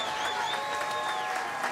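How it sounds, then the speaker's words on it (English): Boxing fans in an arena applaud two fighters after a bout ended by TKO, a moderate, steady patter of clapping from a large crowd heard at some distance. "can we have a round of applause for these 2 warriors?"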